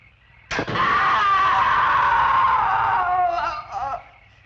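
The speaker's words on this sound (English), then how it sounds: "I'm sure I heard a scream." A sustained scream in a jungle setting, bursting in sharply and holding loud for about three seconds before breaking off, fairly close rather than distant.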